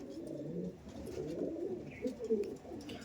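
Andhra pigeons coo in a steady, overlapping murmur of low throaty calls, close by and fairly soft, with no voices over them.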